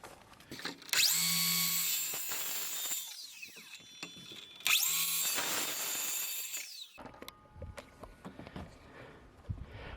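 Outdoors on a desert deck, a power tool notches 45-degree corners into deck boards. Two loud, high whining cutting runs of a few seconds each are followed by quieter clattering and handling noise.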